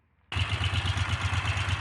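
A Moto Guzzi California II motorcycle engine, being tuned for a running fault, starts after a short quiet moment. It then settles into a steady, loud idle with an even, rapid pulsing beat that stays close and continuous with no talking.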